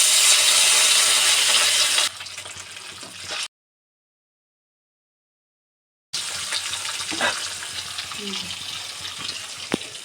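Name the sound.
fish frying in a pan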